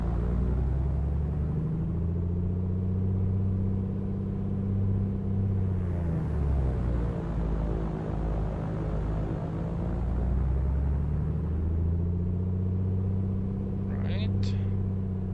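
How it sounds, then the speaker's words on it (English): Light aircraft engine running steadily at run-up power on the ground before a flight, with the propeller being cycled so the drone dips and shifts in pitch midway, a loud continuous rumble throughout. "cycle the prop at least 2 times"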